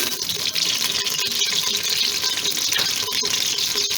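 Onions dropped into half a cup of heated oil for kadhi pakora give a loud, continuous close-up sizzle, a dense hiss that holds steady throughout with no voices.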